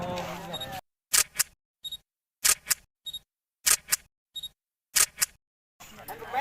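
A camera shutter fires in a rapid series of crisp double clicks, about eight in all, close and loud against silence, with voices heard just before and after.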